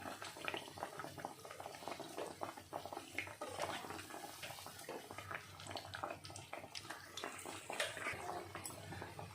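Egg and bread cutlets frying in oil in a pan, a quiet bubbling sizzle with a few soft utensil clinks.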